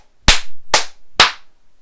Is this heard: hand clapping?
yes